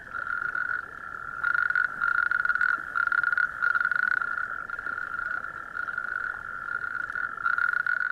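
A male natterjack toad calls loudly during courtship at night, a continuous rolling trill held at one steady pitch. Brief pauses and swells break it up over the eight seconds, with no talk.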